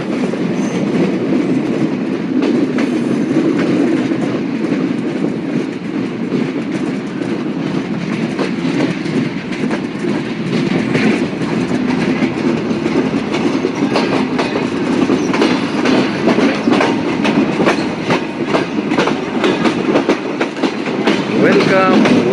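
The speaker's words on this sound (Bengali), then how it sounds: "আমাদের ট্রেনের লোকোমোটিভটি অলরেডি চুয়াডাঙ্গা রেলওয়ে স্টেশনের প্ল্যাটফর্মে অতিক্রম করেছে" Rupsha Express rolls into Chuadanga railway station with a constant loud rumble and rapid clickety-clack of wheels over rail joints, sustained without a break throughout.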